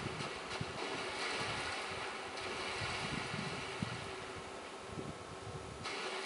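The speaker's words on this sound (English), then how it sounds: "Oh, that's just the sound of the water." Flowing water in the Tomb of Giants area of the video game Dark Souls: a steady, broad rushing wash with a low churning undertone, continuous and moderately faint, with no talking.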